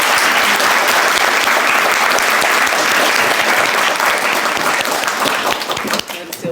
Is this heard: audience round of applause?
yes